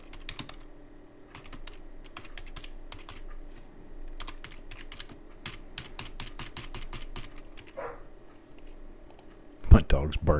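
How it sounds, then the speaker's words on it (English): Rapid, heavy typing on a computer keyboard, a dense run of close, sharp key clicks for most of the stretch, ending in a few louder thumps; no one speaks. "I'm pounding on my keyboard and he can hear it"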